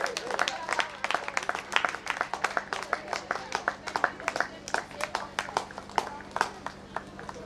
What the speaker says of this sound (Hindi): कृपया जोरदार तालियां बजाएं।